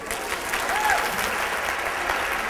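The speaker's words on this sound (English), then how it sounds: "Clap if you know what I'm talking about." Steady audience applause during a motivational talk, a continuous crackle of many hands clapping with faint voices mixed in.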